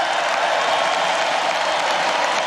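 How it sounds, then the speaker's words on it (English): Steady crowd applause and cheering at the 2024 Republican National Convention, a dense continuous wash of clapping heard from a distance with no talking. "So huge applause when he accepts the nomination."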